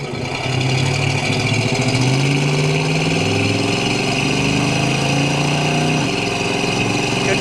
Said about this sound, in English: This is a 1971 Chevrolet El Camino with a 350 automatic cold AC.